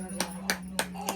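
Four sharp hand claps land at an even, unhurried pace over a steady low household hum.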